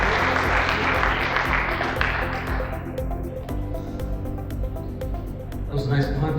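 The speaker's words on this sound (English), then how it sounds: "So let's give a round of applause." Applause from an audience at an evening business talk fills the space, dense clapping that gradually thins out, with a voice speaking over it toward the end.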